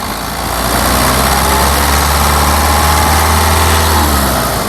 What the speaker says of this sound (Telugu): ఇంజన్ యొక్క నాయిస్ చాలా సైలెంట్గా అయితే ఉంది